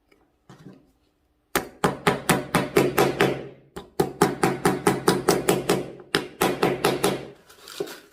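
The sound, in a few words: hammering nails into wood with a hammer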